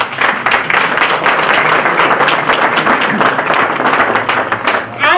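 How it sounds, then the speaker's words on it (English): Loud, sustained applause from an audience at a Hispanic Chambers of Commerce event held at Macy's, steady clapping filling the whole stretch without speech. "Everybody, a big applause for Frank."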